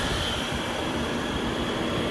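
A 1991 Bristol central air conditioner compressor runs outdoors in a neighborhood, a steady loud broadband hum and rush with no change over two seconds and no voices.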